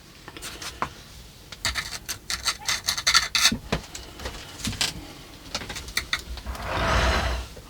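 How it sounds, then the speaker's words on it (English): Sand being shoveled and packed in around a garden fence post beside dwarf myrtle plantings, with close gritty scrapes and scoops in irregular bursts ending in a longer rushing pour. "I'm just gonna fill in around it now with the sand."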